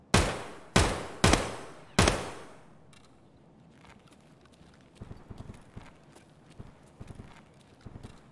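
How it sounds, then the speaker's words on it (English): Four loud AK rifle shots crack in quick succession in Escape from Tarkov, each with a short decaying tail, followed by quieter scattered pops and thuds. "that was AK fire over there"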